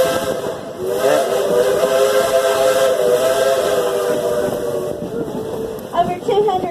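A train engine at Dollywood blows a long, loud steam whistle over its running hiss and chuff, with a faint murmur of people nearby.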